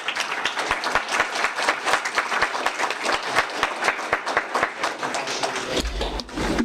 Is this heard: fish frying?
no